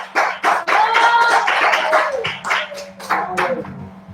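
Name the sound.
church congregation clapping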